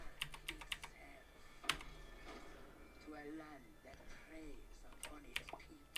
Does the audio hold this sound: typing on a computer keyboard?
yes